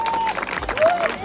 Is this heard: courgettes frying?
no